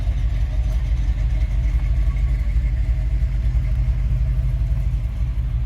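An old Chevrolet C10 pickup truck's engine idles while warming up, a steady low rumble, loud and close, with no speech over it.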